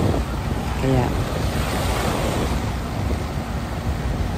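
Rough sea waves and gusting wind at Subic Bay, Olongapo, a steady roaring wash with heavy wind buffeting the microphone, loud and continuous with no voices.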